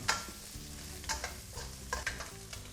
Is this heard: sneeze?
no